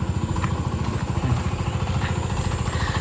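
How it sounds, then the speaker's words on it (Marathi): A tractor engine runs in a rice field, a steady chugging idle with a fast even low throb and a faint mechanical clatter, close and constant. "आत्ता ट्रॅक्टर पण चालू केलेला आहे"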